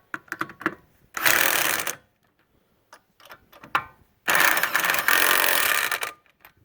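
Lug nuts being tightened on a car wheel during a brake change, two long loud rattling bursts of a power wrench separated by short clicks and knocks, close up and without talk.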